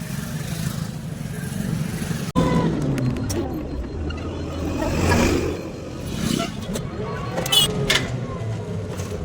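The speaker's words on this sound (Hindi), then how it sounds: "देख सकते हो गाइस, चेक करो कितना ज़्यादा ट्रैफिक है।" Heavy road traffic surrounds an auto-rickshaw, with a steady drone of engines and passing vehicles, a sharp knock, and horn bursts near the end, while people talk throughout.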